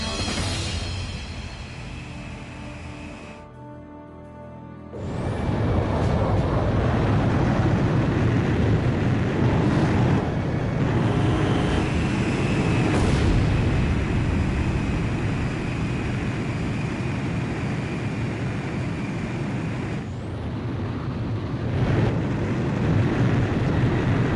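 Aircraft going down and blowing up in Ace Combat 7: a sustained, windy jet roar drops away briefly, then a heavy broadband burst swells into a loud, continuous rumbling blast that persists to the end.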